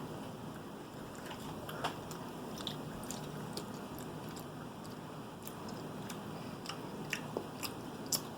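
Someone bites and chews gummy candy in a quiet room, with soft, scattered bites and squishy chewing sounds close to the microphone.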